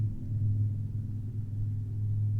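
A car rumbles steadily at low pitch, holding a fairly even level throughout as it drives off, with no voices.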